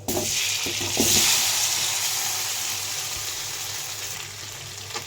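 Soaked boiled potatoes hit hot oil with mustard seeds and set off a close, loud sizzle that swells early, then settles into a steady, slowly fading fry with a few stirring knocks.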